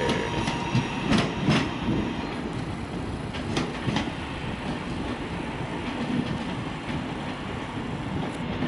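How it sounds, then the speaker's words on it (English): A Virgin Pendolino train rolls through Manchester Piccadilly station with a loud continuous rumble, rhythmic wheel clatter and rail noise sustained throughout, no voices. "And a Virgin Pendolino."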